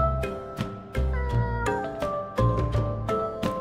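Cats in Bali meowing repeatedly, close and loud, with overlapping drawn-out cries and a few harsher caterwaul-like calls in an uneven rhythm.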